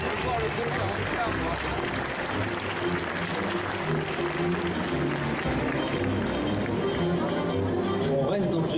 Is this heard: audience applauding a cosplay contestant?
yes